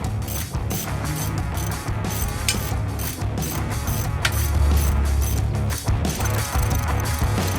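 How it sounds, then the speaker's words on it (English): Ratchet of a torque wrench clicking repeatedly and loudly, close up, while flywheel bolts are tightened to 60 newton metres plus 90 degrees on an Audi A3 8P during a clutch upgrade. "let's carry on getting the flywheel in, torquing the bolts up to 44 foot-pounds or 60 newton meters plus 90 degrees"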